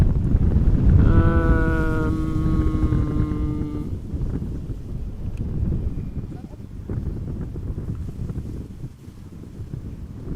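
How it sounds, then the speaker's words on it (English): Gusty wind at Amsterdam Schiphol Airport buffets the microphone in a loud, rumbling roar throughout, with a brief tonal whine early on and a voice talking over it. "Wind also seems to have become a little bit more gusty"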